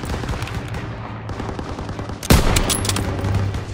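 Machine-gun fire in a Call of Duty: WWII battle crackles in dense rapid bursts, with a loud close burst midway followed by sustained fire and battle noise.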